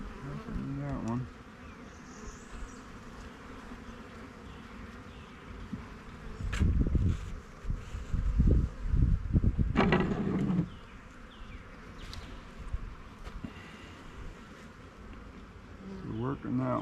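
Honey bees buzz steadily around an open hive in a bee yard, a low continuous drone with louder passes of nearby bees, while voices talk intermittently over the hum.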